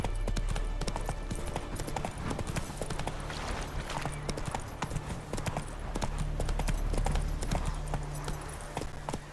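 Roach, a horse in The Witcher 3: Wild Hunt, gallops with steady, rapid clip-clop hoofbeats close up over a continuous game soundscape, with no talk.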